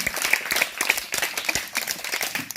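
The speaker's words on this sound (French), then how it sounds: "Donc on acclame encore pour Papa Dieu." A crowd at a church evangelism gathering applauds, many hands clapping in a dense, lively patter with some cheering voices mixed in, sustained throughout.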